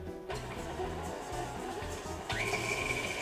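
Electric mixer creaming sugar for snickerdoodles: a steady motor whir with a rhythmic churning pulse, close by, rising slightly in pitch partway through.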